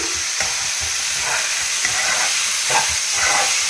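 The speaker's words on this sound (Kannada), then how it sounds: "ಈ ಥರ ಎಣ್ಣೆಯಲ್ಲಿ ಎಲ್ಲ ಫ್ರೈ ಆಗಿದೆ ಚೆನ್ನಾಗಿ" Onion, tomato and leafy greens fry in oil for a leafy vegetable curry, giving a loud, steady, close sizzle with soft thumps of stirring running through it.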